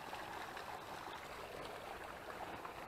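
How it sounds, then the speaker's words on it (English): A cold, fresh stream babbling under a small wooden boardwalk on a hiking trail near a canal, a close, steady rushing and burbling wash with no talking. "It's babbling under this little board walkway"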